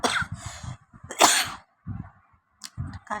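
A person with a cold coughs in several harsh, close bursts, separated by short pauses, with no talking.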